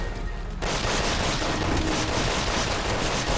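Dense, continuous gunfire in Resident Evil 6 roars as a steady, loud barrage after a brief quieter moment, with no talk over it.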